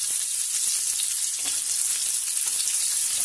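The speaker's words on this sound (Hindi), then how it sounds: "इसमें अभी हम इसको फ्राई कर देंगे।" Meat boti rolls fry in hot oil, making an even, bright, close-up sizzle with faint pops and bubbling, steady and unbroken for a few seconds with no voices.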